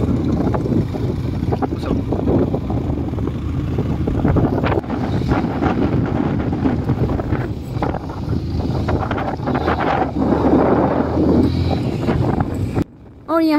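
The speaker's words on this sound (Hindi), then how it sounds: "देखो यहाँ पे ना बहुत ही ज़्यादा हवा चल रहा है" Strong wind gusts steadily at a hill station in Lava, a loud continuous roar buffeting the microphone for the whole stretch, with a brief drop near the end.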